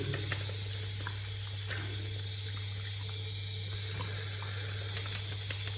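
Water runs under a tap to rinse a badger-hair shaving brush knot treated with chemical tip gel, a steady, continuous close splashing flow for the whole stretch with no speech.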